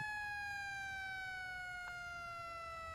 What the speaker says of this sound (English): We have lights and sirens for a reason.